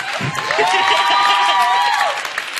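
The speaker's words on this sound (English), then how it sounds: "Let's give them a round of applause again" A closing-ceremony audience at an Africa Awareness Week event breaks into dense applause and cheering, with a high sustained whoop or shout riding over the clapping before it tapers off near the end.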